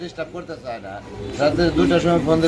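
Pigeons coo close by in repeated soft, throaty warbles, growing fuller and louder partway through, with several birds overlapping.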